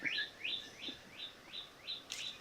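Birds feeding on ripe fruit in an Indian blackberry (jamun) tree give about seven quick, evenly spaced, rising chirps, faint but clear against a quiet outdoor background.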